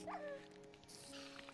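A Minecraft dog gives a brief, high whimper at the start, faint and short, then quieter game ambience follows.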